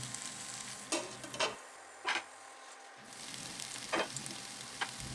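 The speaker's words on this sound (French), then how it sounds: "Je fais revenir les abats pendant 10 minutes sans ajouter de l'eau en remuant tous les 2 minutes." Tripe and other offal frying in a pot with hot chili, without water, while being stirred: a soft continuous sizzle broken by a few scraping stir strokes, close and fairly quiet.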